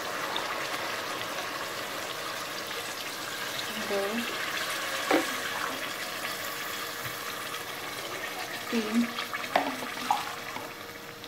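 Three and a half cups of water pour steadily into a cooking pot for pulao, a continuous rushing splash, while someone speaks briefly over it.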